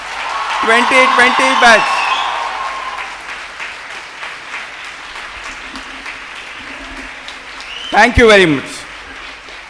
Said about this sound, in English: Ladies and gentlemen, a big round of applause for the KMCH